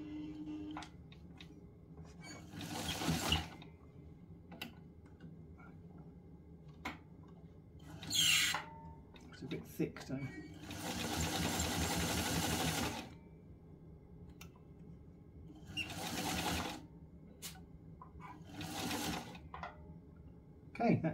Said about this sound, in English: I'm just going to sew this in now on the top here.